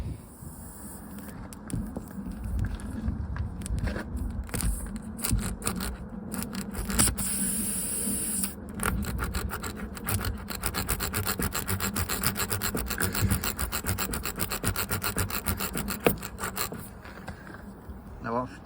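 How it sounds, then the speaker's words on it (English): A reaming tool is worked back and forth in a puncture hole in a van tyre, making rapid, rhythmic rasping and rubbing strokes close by. The strokes come in bursts, then run as a dense, continuous scrape with no talking. "So the first thing we've got to do is clean out the hole and make it enlarge it"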